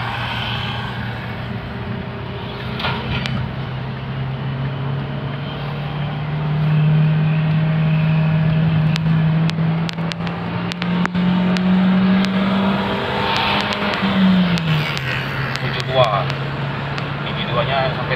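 A 2012 Toyota Avanza engine undergoing a tune-up hums loudly and climbs in pitch as it revs higher, then drops back, with people talking over the steady drone.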